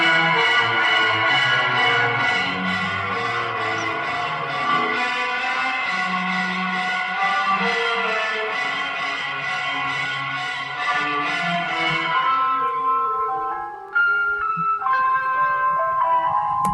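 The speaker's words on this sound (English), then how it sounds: "It sounds like a very cursed Celeste." High, tinkling celesta- or glockenspiel-like bells in a Filipino film score play a repeating ostinato over soft, hazy orchestral tones. The bells sound thin and a little lo-fi, then thin out to sparse, isolated chimes near the end.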